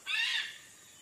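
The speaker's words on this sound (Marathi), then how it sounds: "गरुड पक्षी।" A single shrill, drawn-out raptor call of an eagle rings out near the start of a village evening walk in Konkan, then fades over about half a second, with no talk during it.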